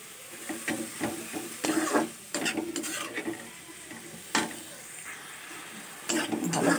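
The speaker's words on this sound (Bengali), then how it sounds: "মেথি শাকগুলো দিয়ে দিলাম। এবার নাড়াচাড়া করে" Fenugreek leaves (methi sag) stirred in a pan with potatoes, a steady sizzle broken by repeated scraping and clattering strokes of a utensil against the pan, close and moderately loud, with no talking.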